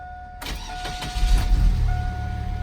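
A Chevrolet Sonoma pickup, a cheap scrapyard truck with an aftermarket key switch, cranks briefly and fires right up, then settles into a steady close idle with no talking.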